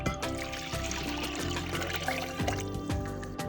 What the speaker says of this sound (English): And then into this pot, we're going to add 3 cups of water